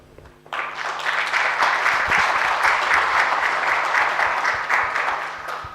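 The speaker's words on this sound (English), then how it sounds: "Give FSD a clap." An audience at a survey report launch breaks into applause after a brief quiet moment, the clapping swelling quickly and holding steady and fairly loud before tapering slightly at the end.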